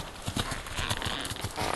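A horse canters along a field, hooves thudding in a quick rolling three-beat rhythm, fairly close, with outdoor background.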